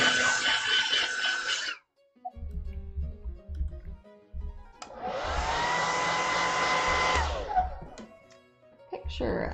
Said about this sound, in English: I'm going to turn my hair dryer on real quick